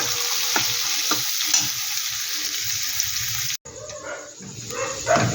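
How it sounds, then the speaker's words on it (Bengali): Two medium onions sizzle and fry in a pan for homemade pasta with steady crackling and occasional stirring, loud and close; the sizzle briefly cuts out near the end. "পেঁয়াজটা দিয়ে একটু আমি ভালো করে ভেজে নেব"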